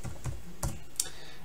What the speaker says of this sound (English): then I can start typing in my new formula